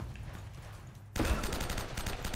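After a quiet stretch in the video game Uncharted: Drake's Fortune Remastered, a sudden burst of rapid gunfire erupts and continues in a dense, crackling volley.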